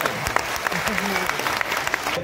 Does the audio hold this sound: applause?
yes